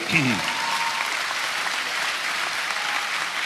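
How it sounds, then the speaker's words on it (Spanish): Church congregation applauding during a sermon in Santiago, Chile, a continuous broad clapping roar with a brief voice at the start. "Dale un aplauso al Rey bendito"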